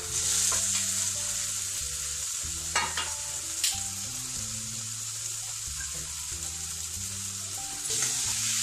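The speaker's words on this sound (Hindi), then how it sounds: "अब मैं सारी चीज़ों को अच्छे से फ्राई करेंगे" Peas and potatoes frying in a pan for pav bhaji: a constant bright hiss of sizzling with occasional stirring knocks, heard beneath steady background music, without speech.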